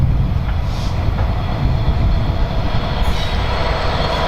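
Long container freight train 418B from Basford Hall to Maritime, coming off the Coventry line at Leamington, rolls past close by with a loud continuous rumble of wagons, steady throughout.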